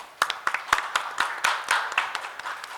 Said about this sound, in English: So a big round of applause to Aayera and entire team.